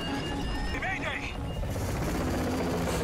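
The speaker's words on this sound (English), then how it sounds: "I mean, it's a helicopter and stuff, that's pretty cool." A helicopter in a scene from The Walking Dead gives off a steady loud rotor and engine roar that fills the clip, and a brief whining sweep rises through it early on.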